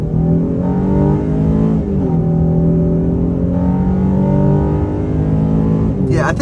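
A 2023 Honda Ridgeline's 3.5-liter VTEC V6 pulls hard through an acceleration run, its loud engine note climbing in pitch, dropping at shifts and climbing again across several gears, steady and close throughout.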